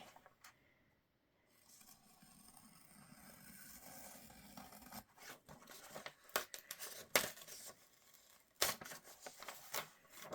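Scraping and crisp slicing of paper as a small craft knife cuts through book pages, a run of short irregular scratchy strokes that grows busier toward the end, close and fairly quiet, with no talking.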